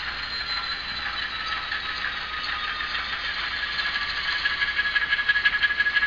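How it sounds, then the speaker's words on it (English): A steady mechanical whir and faint gear ratcheting from an Atlas RS-1 model locomotive motor on DCC speed step 7, running slowly and evenly with a thin high whine. "Let's see how this engine handles low speeds."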